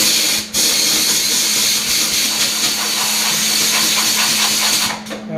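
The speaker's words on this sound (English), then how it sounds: "I'll blow some compressed air up and behind." Compressed air blasts steadily behind a fresh weld on the body of a 1966 Ford Galaxie 500 convertible, a loud, continuous hiss lasting several seconds with a brief break near the start and a cutoff at the end.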